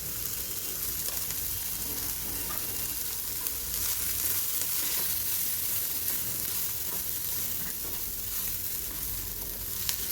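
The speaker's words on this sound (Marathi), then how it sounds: "आता इथे भाजत असतानाच इथे मी खोबरं घेतलेलं आहे। हे सुकं खोबरं आहे" Dry coconut and masala roasting in a hot pan give off a steady, dense sizzle and crackle with occasional stirring scrapes, close up and continuous, with no voices.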